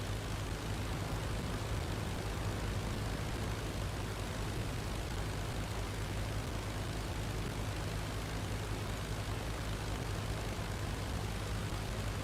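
A WWI-era aircraft engine drones steadily and loudly throughout, a dense continuous roar with a low throbbing hum, in the Flying Circus flight simulator while chasing an Albatros and a Dr.I through fog.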